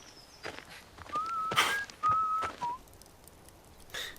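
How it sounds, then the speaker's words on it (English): A person whistles a short, faint tune of a few sustained pitched notes over a quiet room with scattered soft knocks and footsteps. "Continues whistling."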